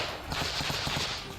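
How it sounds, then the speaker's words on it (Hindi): Rapid gunfire from soldiers fighting in a forest in the Zaporizhzhia area of Ukraine, a dense rattling burst of shots heard at a distance without any speech. "कुछ जवान तो जंगल के बीच दुश्मन की तलाश कर उस पर गोलियां बरसाते नजर आए"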